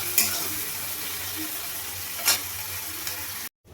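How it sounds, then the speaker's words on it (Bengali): Tomato and onion frying with salt in a pan, a loud continuous sizzle with two brief sharper bursts of stirring before it cuts off abruptly near the end. "এবার নুন দিয়ে ভালো করে টমেটো আর পেঁয়াজটাকে ভেজে নেব একদম লাল লাল করে।"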